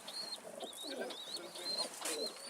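Pigeons coo indoors in soft, rolling calls mixed with faint chirps, fairly quiet and close, with no talking.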